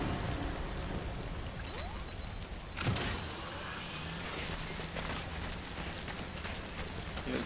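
Steady rain falls across an outdoor area in the video game Death Stranding, a constant broadband hiss of moderate loudness with a brief sharper burst near the middle and no talk.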